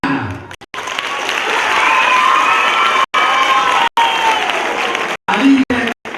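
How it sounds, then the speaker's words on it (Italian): An audience applauds and cheers loudly for a child at a 2016 show, with sustained clapping and some shouting and a few brief gaps. "un grande applauso per ogni bambino che vi ringrazierà"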